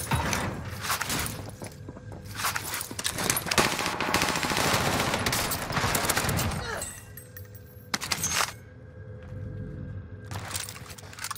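Bursts of automatic gunfire in Warzone on Rebirth Island, loud rapid volleys nearly nonstop with brief gaps and sharp single cracks, mixed with game sounds.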